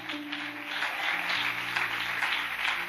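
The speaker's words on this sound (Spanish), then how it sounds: "Dale un aplauso al Señor por lo que ha hecho." Church congregation applauding during a Spanish-language worship service, a steady wash of clapping that holds at an even level for about three seconds, with faint tones humming underneath.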